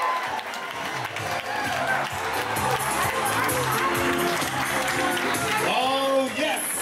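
Crowd cheering, clapping and shouting at a film festival premiere on Bonaire, a dense, loud, continuous wall of voices and applause with higher whoops near the end.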